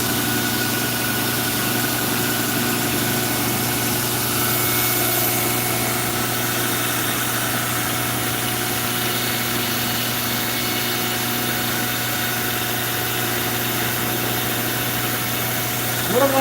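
A 2x72 belt grinder sharpening a knife edge runs as a steady, close motor drone with a constant whirring hum, and the sound stays even from start to finish.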